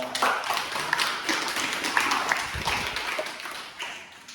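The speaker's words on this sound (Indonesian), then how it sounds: "beri tepuk tangan." Scattered clapping from a classroom audience at a university teaching session, uneven and moderately loud, with individual hand claps and taps standing out before it thins toward the end.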